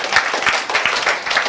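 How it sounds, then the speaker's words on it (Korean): A short burst of audience applause, dense overlapping claps from a room full of people, brief and fairly loud. "자, 박수 한번 쳐주세요."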